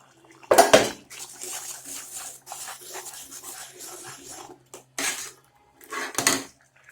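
A spoon stirring a thick capsicum and mushroom gravy masala in a metal pan, with scraping and clinking strokes in bursts and brief pauses between them, close and fairly loud.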